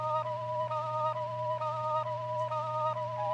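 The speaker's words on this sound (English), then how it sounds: "So after adding the bass, I then put in this flute shot" A dry flute melody sample in FL Studio with no effects applied, repeating a short two-note breathy figure in an even rhythm over a steady low bass drone, quiet and clean with no talking.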